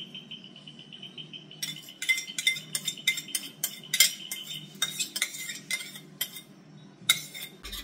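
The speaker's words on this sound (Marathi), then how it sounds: "आमच्याकडे मिक्स करायला मम्मीकडे विस्कर नसल्यामुळे आम्ही चमच्याने काम चालवत आहोत" A spoon stirs cake batter of yogurt and oil in a bowl, scraping and clinking against the sides in quick, uneven strokes. The sound is close and continuous, with no talking.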